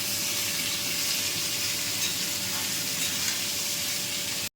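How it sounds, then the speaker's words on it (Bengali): Neem jhol cooking in a covered pan gives off a steady, loud, dense sizzle and hiss that holds evenly from start to finish, close up, before cutting off abruptly, with no voices. "একটু ঢাকা দিয়ে নাড়াচাড়া করে নিলাম।"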